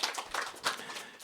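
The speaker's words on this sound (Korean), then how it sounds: "우리 환영의 박수로 함께 해주시면" A church congregation at a Sunday service applauding in welcome: about a second of steady, diffuse clapping from many hands in a reverberant hall.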